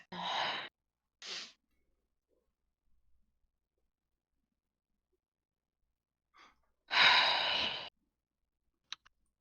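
A person sneezes, with short breathy bursts and a sharp explosive release amid near silence at a tabletop role-playing session.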